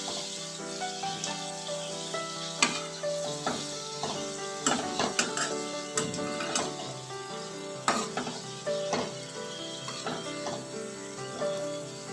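Fish kachori, two at a time, fry in hot oil and are turned over, with a steady close sizzle broken by light clinks and scrapes of a utensil in the pan.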